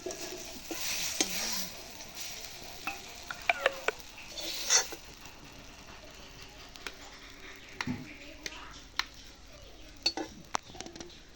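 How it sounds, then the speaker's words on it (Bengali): Coconut, chana and peanut chutney with salt is stirred in a pan: scattered scraping and clinks of a spoon against the metal over a soft background sizzle, with a voice briefly heard. "নুনটা দিয়ে এখন আমরা অল্প নাড়িয়ে নেব"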